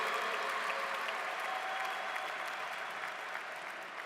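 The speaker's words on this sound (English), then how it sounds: "Let's have another round of applause for Senator Chuck Schumer" Steady applause from a large crowd at a college commencement ceremony fills the whole stretch, a dense, sustained patter of clapping at moderate distance.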